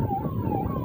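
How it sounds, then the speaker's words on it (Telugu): An ambulance siren wails on a road, its steady tone sounding at moderate distance over low traffic rumble with no talking. "అంబులెన్స్ సైడ్ ఇవ్వండి కొంచెం."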